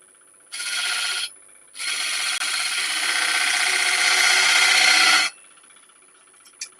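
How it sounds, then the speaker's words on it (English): A mortise is cut into an elm platter, giving loud rasping, abrasive tool noise in two bursts, a short one and then a longer sustained stretch, followed by quiet. "now I'm going to put the mortise in"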